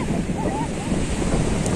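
Sea waves wash steadily on Rilgaon beach, a continuous roar of surf heavily mixed with wind buffeting the microphone, with a faint voice partly buried underneath.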